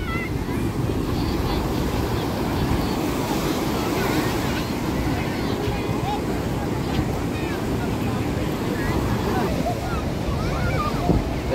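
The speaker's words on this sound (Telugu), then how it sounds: "ఇప్పుడు వాతావరణం కూడా కూల్గా ఉంది కాబట్టి అలలు బాగా ఎక్కువగా వస్తున్నాయి." Big ocean waves roll and crash continuously at RK Beach in Visakhapatnam, a loud, dense surf roar mixed with wind buffeting the microphone and faint crowd voices.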